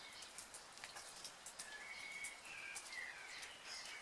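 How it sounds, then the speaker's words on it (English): Gentle rain falls outdoors on a Friday morning, a soft, steady patter heard alone with faint bird chirps in the background. "It's just gentle, nice rain."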